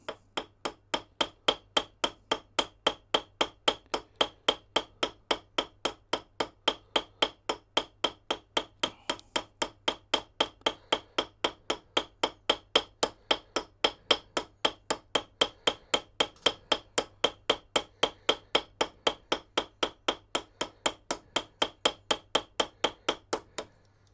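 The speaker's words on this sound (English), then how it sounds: "let me just peen this one now" A hammer peens a rivet on an old kitchen knife in a long, steady run of sharp metallic taps, roughly four per second, close and clear with no talking.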